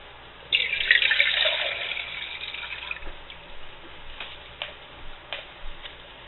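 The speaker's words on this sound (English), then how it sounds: "I actually have some water in here I need to pour out." Water pours out of a container in a splashing stream for a few seconds, then trickles and drips sporadically.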